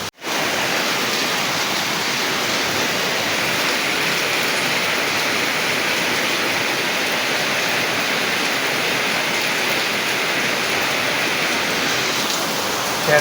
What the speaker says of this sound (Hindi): चेक करो कितनी तेज़ बारिश आ रही है